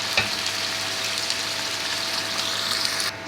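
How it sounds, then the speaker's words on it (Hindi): Chicken browns in hot oil in a pan, giving a steady close sizzle of frying that continues without break and cuts off just before the end. "थोड़ा सा ब्राउन करेंगे अपने चिकन को, फ्राई करेंगे इसमें।"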